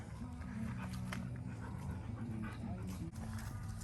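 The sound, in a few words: dogs play-fighting and biting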